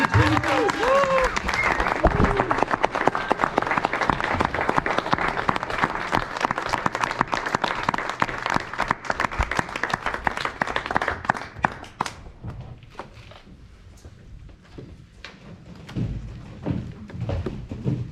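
A graduation ceremony audience gives a sustained round of applause, dense crowd clapping with a few cheers that fades after about twelve seconds into scattered claps and a voice speaking.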